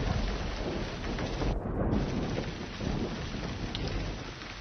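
Heavy rain pours steadily across a dense, close downpour, with a thunderstorm rumbling underneath and a brief lull before the wash returns.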